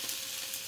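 Perch fillet marinated in garlic, parsley, salt and lemon zest sizzles as it sautés in a hot pan, a steady close broadband frying hiss with no pauses over a brief moment.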